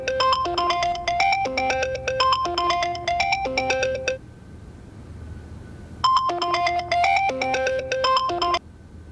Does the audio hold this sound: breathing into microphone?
no